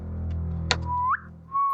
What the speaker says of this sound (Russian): присвистнул